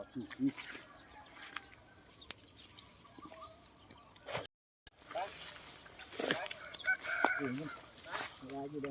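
Chickens cluck in short, scattered bursts close by in a rural yard, with a brief crow-like call, while people talk throughout.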